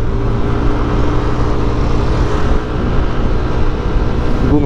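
A Yamaha Aerox 183cc scooter accelerating at half throttle on a road, a loud, steady engine drone with heavy wind noise, close and continuous.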